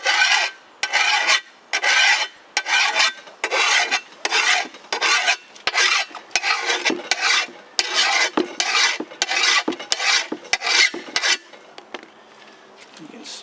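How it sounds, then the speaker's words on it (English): An old chainsaw file rasps along the nicked edge of a shovel used in rocky soil, giving a close, steady series of scraping strokes in an even back-and-forth rhythm that slows and fades near the end. "So I'll go ahead and file it just a little more."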